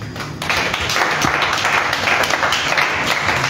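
A church congregation at a preaching service in Yaoundé bursts into applause, loud sustained clapping that starts about half a second in and carries on to the end, with no talk over it.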